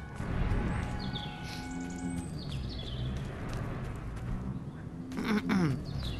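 Chickens in Destroy All Humans! Remake cluck and squawk amid ambient game noise, with a louder burst of flapping and crashing near the end.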